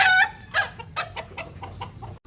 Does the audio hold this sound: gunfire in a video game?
no